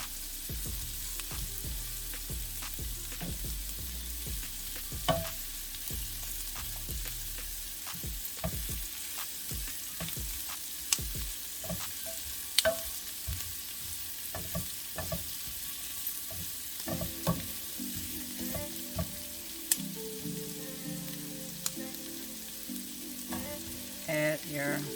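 Thinly sliced teriyaki beef stir-fries in a pan with a steady, close sizzle, punctuated by sharp utensil clacks and stirring scrapes; low clunks of the pan shifting come in toward the end.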